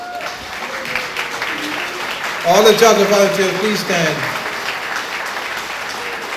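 An audience at a foundation fundraising gala applauds volunteers, a broad wash of clapping that swells and then holds steady under a speaker's amplified voice.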